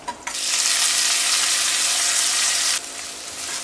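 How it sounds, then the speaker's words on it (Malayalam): Ginger, green chili and garlic hit hot coconut oil in a pan with a sudden loud, steady hiss of frying that sizzles for a few seconds before dropping to a softer crackle. "അപ്പോൾ നമ്മുടെ വെളിച്ചെണ്ണ നന്നായിട്ട് ചൂടായിട്ടുണ്ട്. ഇഞ്ചിയും പച്ചമുളകും വെളുത്തുള്ളി ഇട്ടാ ചേർത്തത്."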